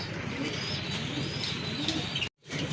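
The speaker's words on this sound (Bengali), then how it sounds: "এক জোড়া রাজগোল্লা কবুতর দুইটা খুবই সুন্দর কোয়ালিটিফুল কবুতর" A pair of Rajgolla pigeons coo softly and steadily beneath a dense wash of background noise, with a brief dropout near the end.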